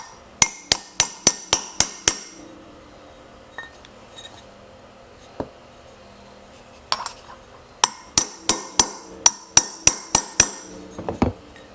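A socket is hammered against the outer edge of a bearing on a Rupp mini bike during restoration, giving sharp, loud metallic strikes in quick rhythmic bursts of about eight blows, a pause with a few isolated knocks, then another run of rapid hits.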